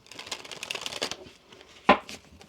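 Tarot cards shuffled by hand in a rustling, riffling burst lasting about two seconds, ending in a sharp snap as the deck is squared, then quiet.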